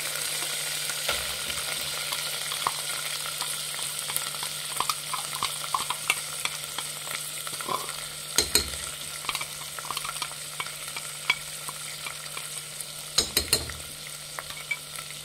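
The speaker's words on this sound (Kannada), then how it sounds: "ಇದು ಖಾರ ಮಸಾಲ ಹಾಕಿದ ಮೇಲೆ ಚೆನ್ನಾಗಿ ಫ್ರೈ ಮಾಡಬೇಕು ಇದನ್ನು" Chickpeas and peas cooking in oil with freshly ground spicy masala over low heat, a steady soft sizzle under repeated scraping and stirring strokes of a spoon in the pan, with a few sharper clanks, close and continuous.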